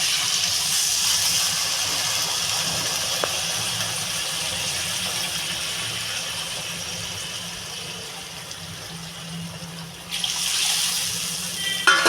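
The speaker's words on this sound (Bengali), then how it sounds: "আমি এবার পরিমাণ মতো জল দিয়ে দেবো" Water poured into a pan of sautéed potato and radish curry, a steady hissing, rushing pour that runs for several seconds, eases off, then surges again near the end; no talking.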